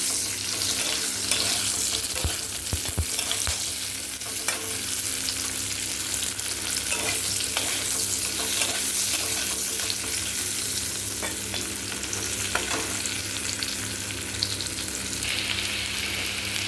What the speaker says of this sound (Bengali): ঢেঁড়সটাকে আগে একটু ভেজে নিই